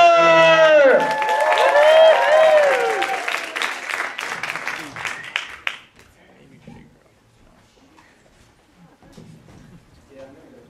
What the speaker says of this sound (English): please give a big round of applause for Fran Hoffner!